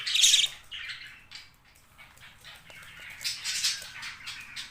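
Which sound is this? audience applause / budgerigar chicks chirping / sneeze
budgerigar chicks chirping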